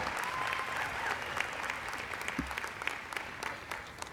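A commencement audience gives the early childhood education graduates a sustained round of applause, a steady wash of clapping with a few close, distinct claps and a brief low thump partway through.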